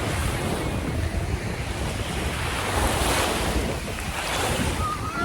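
Surf at a Miami beach rolls in a constant loud wash, mixed with heavy wind buffeting the microphone, with no talking.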